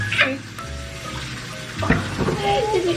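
Tap water runs and splashes in a sink while small items are washed by hand, a steady close wash of water with brief clinks and a child's and adult's voices talking over it.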